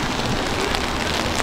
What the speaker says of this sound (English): Let's get out of the rain, huh?